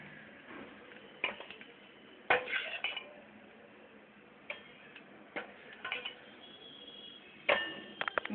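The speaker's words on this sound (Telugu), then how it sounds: "మిక్సీ జార్లోకి ఈ నువ్వులు తీసేసుకుందాం" Roasted sesame seeds are scooped from a pan into a mixer jar, giving scattered light clinks, taps and scrapes of utensils against metal and glass over a quiet background.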